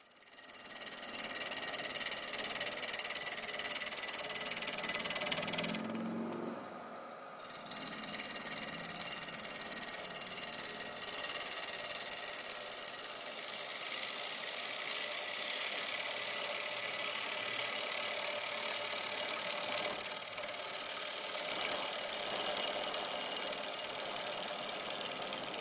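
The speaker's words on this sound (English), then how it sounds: "After we get the motor going, we're going to work from the outside of the blank and aim toward the inside." A wood lathe motor hums steadily while a gouge turns a bowl blank, with a constant whirring drone, a brief dip midway and a low rumble running through.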